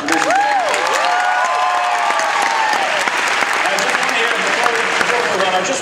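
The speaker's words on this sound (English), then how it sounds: "Can I have a round of applause for producer Jared?" Loud, continuous audience applause for a producer at a live creative show on stage, dense clapping filling the room with a little cheering mixed in.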